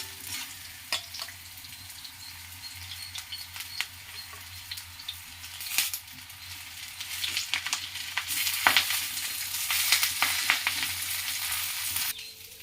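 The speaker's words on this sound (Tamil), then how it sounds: "இப்போ வந்து இந்த முருங்கைக்கீரையை போட்டு லைட்டாக வதக்கிக்கலாம்" Moringa leaves and golden onions sauté in a pan with a steady, close sizzle and frequent scraping stirs that grow busier toward the end, with no voices.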